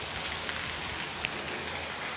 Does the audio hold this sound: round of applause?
no